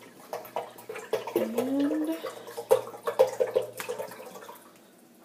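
Water pours into a humidifier tank with gurgling, bubbling and splashing that rises and falls in uneven bursts before tapering off, close by, with a single spoken word at the start.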